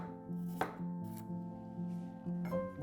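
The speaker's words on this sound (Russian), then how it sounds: "Чеснок измельчаем ножом" A knife chops garlic on a cutting board in a few sharp, irregular strikes over a soft steady hum, fairly quiet and close.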